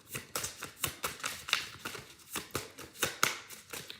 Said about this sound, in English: I'll shuffle through, see what come out.